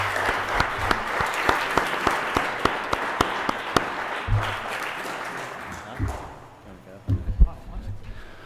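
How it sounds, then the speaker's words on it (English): Applause from the audience at a school district board of education meeting, a steady patter of clapping for several seconds that thins out and fades, followed by a few scattered thumps and movement noises. "How about a nice round of applause to Mr. Block?"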